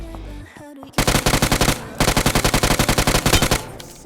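Automatic gunfire in PUBG Mobile as an enemy is knocked down: two rapid, loud bursts of evenly spaced shots, each lasting about a second, after a short quiet lead-in.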